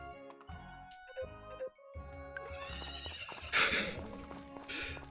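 A game horse on a farm in Story of Seasons: Friends of Mineral Town neighs and whinnies over light background game music, with bright, drawn-out calls standing out near the end.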